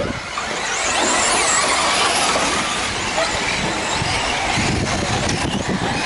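Radio-controlled short course cars race around a garden track, their motors whining continuously and loudly throughout with a steady buzzing drone.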